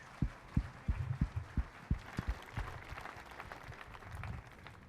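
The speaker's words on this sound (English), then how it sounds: "ask for a big round of applause for all of them" Scattered, fairly distant clapping from a concert audience after jazz soloists perform, with a few sharp individual claps standing out at first, then thinning into a soft, sparse patter.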